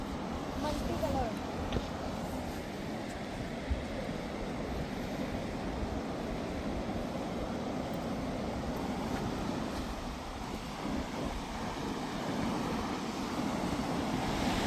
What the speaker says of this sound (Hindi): पानी का फ्लो बहुत तेज है भाई यहाँ पे